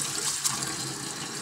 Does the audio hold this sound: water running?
yes